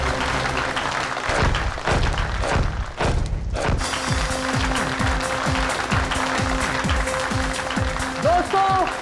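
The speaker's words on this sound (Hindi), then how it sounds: "जोरदार तालियां हो जाए फैजल के लिए" A studio audience claps and cheers for a performer named Faizal at a televised show, the applause loud and dense at first before fading under music with rhythmic thumping beats.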